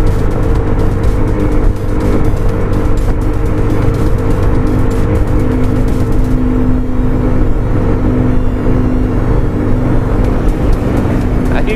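Road traffic in Mexico City heard while riding an Italika motorcycle alongside cars, a loud continuous roar of engines, wind and tire noise with the bike's motor humming steadily underneath.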